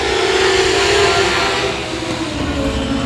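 Dirt-track race cars roaring together as the green flag drops at 281 Speedway, a loud, dense wall of engine noise that swells early and holds steady, with no talk over it.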